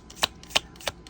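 Cards are shuffled during a spirit card reading, with three quick, crisp riffling bursts evenly spaced and close up, and no talk over them.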